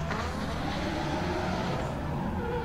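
Michael Perrotet's drift car at a Pure Drift competition, its engine a continuous broad roar that holds steady throughout the short stretch, heard from some distance without voices.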